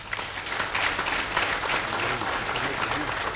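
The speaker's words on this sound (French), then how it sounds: "Kipulu Mbo, médecin de formation, pour qui je demande à l'auguste assemblée, avec l'autorisation de son Excellence Monsieur le Président de la République, d'applaudir." An assembly at a closing ceremony attended by the president of the DR Congo applauds, a broad, even wash of many hands clapping, somewhat distant and steady throughout.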